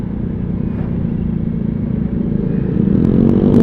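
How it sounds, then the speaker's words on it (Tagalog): A small-wheeled automatic motorcycle draws near along a rough, potholed street, its engine a loud, close putter that swells and rises in pitch as it passes. "Motor to, liit ng gulong,"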